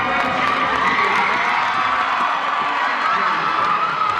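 A college cheer squad erupts on learning they are national champions, a loud, continuous wall of screaming and cheering voices close by that stays at full intensity throughout.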